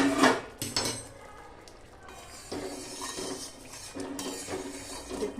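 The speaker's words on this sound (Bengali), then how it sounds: "এবার আমি আপনাদের সঙ্গে ঢাকা খুলে দেখাচ্ছি এটা কেমন হয়েছে।" A lid lifted off a cooking pan of simmering Maharashtrian brinjal curry, a few metallic clinks and knocks of lid and utensil against the pan, close and moderately quiet, no talking.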